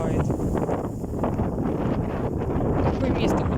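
Strong storm wind gusting across an open field at up to 23 metres per second, a loud, continuous broadband roar with heavy microphone buffeting that swells and dips throughout.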